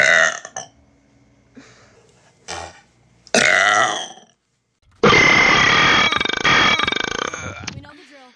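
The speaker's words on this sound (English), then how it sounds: "I'm gonna try to get a real burp." A loud, drawn-out burp rings out close up after a few shorter vocal bursts, sustained for nearly three seconds before trailing off.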